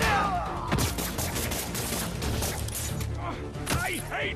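Gunfire erupts in the Spider-Man 2 video game on PS5, a dense fusillade of rapid shots and thumps, moderately loud, with bursts of voices and effects over it.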